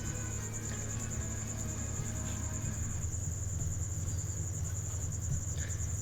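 Crickets chirping at night in a quiet residential neighbourhood, a steady continuous high trill holding throughout over faint low background rumble, with no one speaking.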